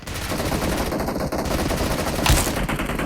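Dense gunfire from the mobile battle royale game BGMI crackles in rapid overlapping bursts over the full stretch, loud and close, with one heavier blast near the end.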